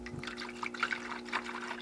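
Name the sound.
pouring Evaporust rust remover liquid into a container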